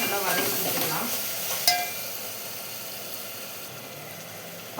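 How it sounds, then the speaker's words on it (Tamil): Onion, tomato and ginger garlic paste sauté in a pan for tomato rice, a steady broadband sizzle with a brief clink of the spoon near the middle, close and continuous without talk. "இதையும் சேர்த்து நல்லா வதக்கி கொடுத்துக்கலாம்"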